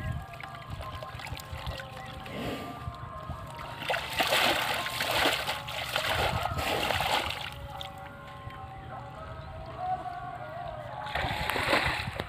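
Water splashes and pours in irregular bursts as a mud-covered buffalo is washed outdoors, the washes swelling and fading over a low background, with voices faintly present.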